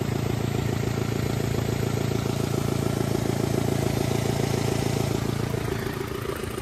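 A Mira car engine idles steadily and close by, a low, even mechanical hum with a faint rhythmic clatter running underneath, holding constant before easing slightly at the end.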